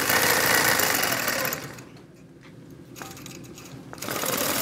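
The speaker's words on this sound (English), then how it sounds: "You can hear the channel lock when it engages and disengages." A Vision 2.0 sewing machine runs loudly, drops to a quieter lull with a few sharp clicks as the channel lock engages and disengages, then surges back to full stitching.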